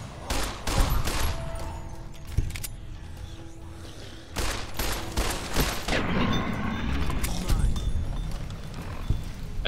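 Rapid bursts of gunfire crackle in Fallout New Vegas near the Repconn site, loud volleys separated by short pauses, with mechanical clatter between shots.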